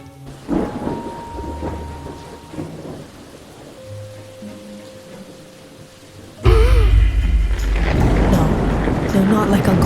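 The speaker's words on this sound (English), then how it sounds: "That's when all of a sudden it started to rain." Sudden rain bursts in after a quiet stretch, a loud, dense downpour with thunder-like rumble that arrives abruptly and keeps going to the end.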